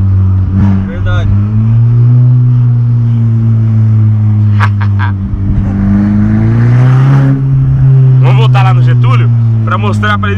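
A loud Audi engine with a straight-pipe exhaust drones with a deep exhaust rumble, its pitch climbing briefly as it revs midway, while voices speak over it in short bursts.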